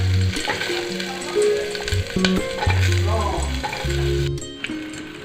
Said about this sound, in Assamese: তেলখিনি গৰম হৈ অহাত মই তেজপাত এখিলা, কাটা পিঁয়াজ আৰু জলকীয়া দি দিছোঁ